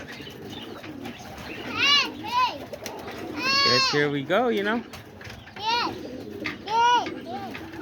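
Homing and roller pigeons in a loft coo and warble in a series of rising, wavering calls close by, with people talking softly in the background.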